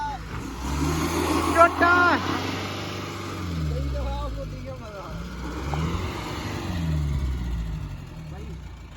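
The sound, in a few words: Tata Safari revving while stuck off-road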